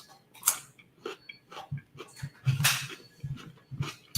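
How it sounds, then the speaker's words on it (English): Crisp, crunchy bites and chewing of raw jicama, close and fairly quiet, with a steady run of sharp crunches spaced through the moment. "You guys heard of jicama before? That's what this is. It's crunchy."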